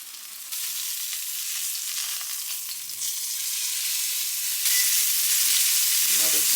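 Food frying in a pan over medium heat, a steady sizzle that holds throughout and grows slightly louder partway through, close by with no talking.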